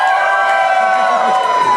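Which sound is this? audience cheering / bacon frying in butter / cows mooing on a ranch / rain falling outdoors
audience cheering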